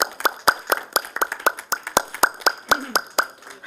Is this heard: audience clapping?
yes